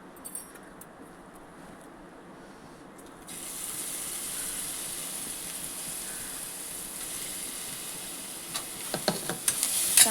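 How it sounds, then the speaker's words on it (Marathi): Ginger, garlic and chilli paste roasting in ghee in a pan: a quiet start, then a steady sizzling hiss jumps in and holds, with a few spoon clinks near the end. "आता आपल्याला मसाला भाजायचा आहे पूर्ण"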